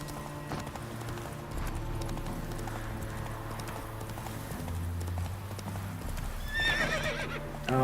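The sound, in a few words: horse Roach galloping in video game The Witcher 3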